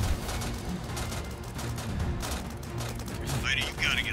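Suppressing gunfire in a Roblox combat game: dense, continuous rattling bursts with voices talking over them and a brief higher electronic tone near the end.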